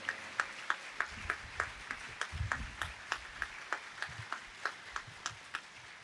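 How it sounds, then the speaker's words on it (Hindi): An audience at a spiritual discourse claps in honour of the women, a faint, distant, steady rhythmic clapping that beats at an even pace throughout. "हमारी मातृशक्ति के सम्मान में विशेष तालियों की गड़गड़ाहट हम सब कर रहे हैं"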